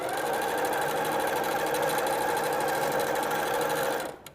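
A sewing machine runs steadily and close, stitching quilt binding strips diagonally in one continuous loud burst before stopping abruptly.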